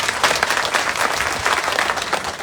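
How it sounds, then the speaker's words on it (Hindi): Loud, dense applause from a crowd at a protest sit-in over railway problems, steady clapping filling the whole stretch without a break. "एक बार दोनों हाथ उठा के जोरदार ताली से सब लोग इनका स्वागत करिए।"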